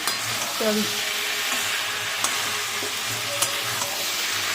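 Vegetables for a hilsa fish curry are stirred in a frying pan, a steady sizzle with scraping strokes of the spoon and a few light clinks against the pan.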